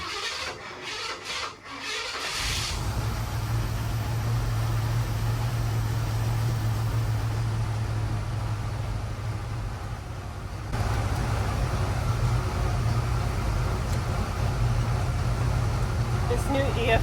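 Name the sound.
Ford Bronco engine cranking and running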